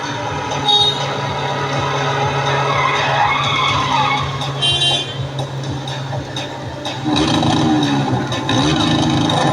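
Motorbike stunt riding through a crowded street during Durga Puja, with tyres skidding and engines revving loudly and continuously amid dense crowd noise, surging again near the end.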